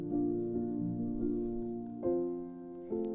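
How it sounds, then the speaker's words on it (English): Soft piano patch from the Labs plugin in a folk track: gentle sustained chords changing slowly, each new chord lightly struck and ringing out, close and mellow, alone without talk. "It's a Labs piano"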